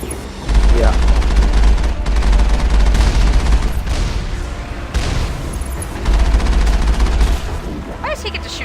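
Sustained automatic gunfire and heavy blasts from a Mass Effect firefight, loud and close, with bursts that stop and restart and a few deeper booms, while voices talk over the shooting.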